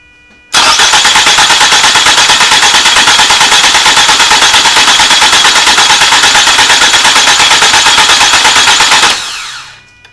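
A flood-damaged Toyota Camry's engine cranks steadily on the starter for about nine seconds, a loud, fast rhythmic churning that never catches, then cuts off abruptly.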